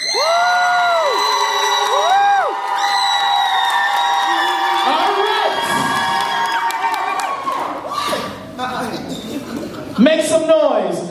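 Crowd at a live slam competition event cheering, whooping and screaming loudly and continuously for about eleven seconds, with high shrieks and a host's amplified voice rising and falling through the noise.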